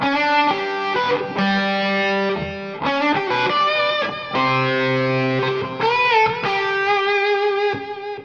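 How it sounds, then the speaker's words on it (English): Sustained overdriven electric guitar chords ring out in long, dark, distorted swells, each fading into echoing delay and reverb before the next chord strikes. "it's just a dark, overdriven sound with some delay and with some reverb from the board"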